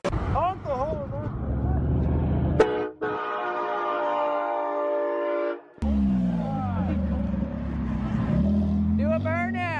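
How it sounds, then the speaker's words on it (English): A loud, sustained multi-tone horn blares for a few seconds at a truck meet, surrounded by idling engines and excited voices talking and shouting. "Honk the horn, man."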